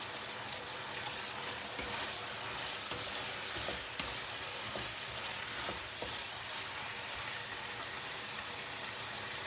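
Black pepper beef stir fry sizzling steadily in a hot pan as spring onion goes in, a close, even hiss with scattered scraping and clicking from the spatula and no speech.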